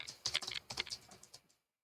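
Command typed on a computer keyboard in a Mac or Linux terminal, a quick close run of crisp key clicks for about a second and a half, then silence.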